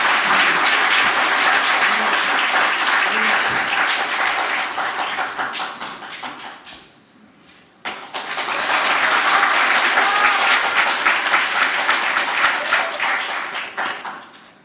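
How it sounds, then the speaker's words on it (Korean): Loud audience applause greets a member of the National Assembly stepping up to speak, a dense burst of clapping that fades to near quiet midway, then resumes strongly and continues to the end. "큰 박수로 맞아주시기 바랍니다."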